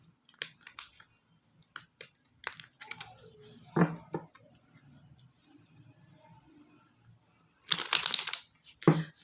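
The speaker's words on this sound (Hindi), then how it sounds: "इन सब कार्ड्स को हम अच्छे तरीके से शफल करेंगे" Tarot cards shuffled by hand at close range, with soft papery rustles and taps and a louder burst of riffling near the end, quiet in between.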